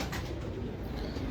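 Pigeons coo softly in a steady low murmur, close by and continuous, with a faint rustle of birds around them and no talking.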